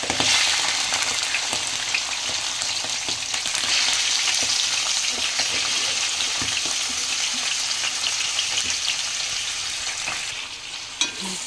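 Chicken liver hits hot oil with green chilies and curry leaves, giving a loud, dense, continuous sizzle and crackle close by that fades slightly near the end, with one sharp knock at the finish.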